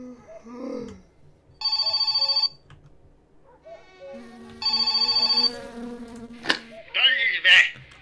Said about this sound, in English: What, the phone rings while I'm sleeping?